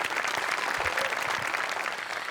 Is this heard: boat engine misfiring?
no